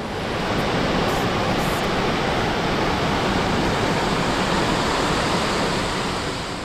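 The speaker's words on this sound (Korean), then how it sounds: "저토록 하얗게 꿈틀거리는 계곡물이 어떻게 차분한 옥빛이 될까요?" White, churning water rushes loudly through a rocky mountain valley stream, a dense and unbroken roar that stays close and constant throughout.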